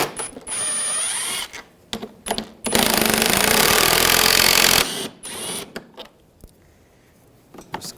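Ratchet wrench with a 10mm socket clicking as it backs out front grille bolts on a 2013-2016 Dodge Dart, with bursts of rapid close ratcheting separated by short pauses and clunks.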